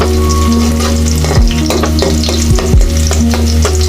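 Onions and spices fry loudly in hot oil for a shing fish and green banana curry, a close continuous sizzle with stirring and tonal music underneath.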